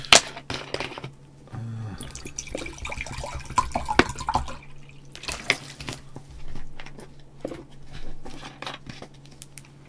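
Water being poured and dripping close by in a quiet room during an online blitz chess session, with small splashes, taps and clinks scattered over about ten seconds against a steady low hum.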